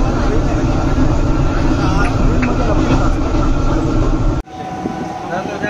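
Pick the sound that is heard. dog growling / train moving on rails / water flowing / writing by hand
train moving on rails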